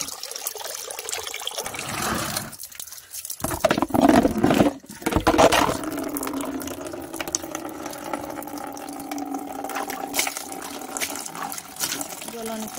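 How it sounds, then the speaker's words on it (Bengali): Water runs steadily into a container outdoors at a family house, a continuous trickling and filling sound that lasts throughout with a few louder splashy moments and faint background noise. "জল অনেকটা ভর্তি হয়ে গেছে।"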